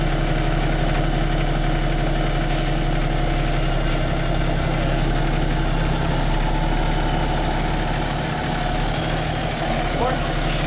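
A dump truck stuck in mud runs its engine with a loud, steady, low idle drone throughout, close by and unbroken, with no clear change in pitch.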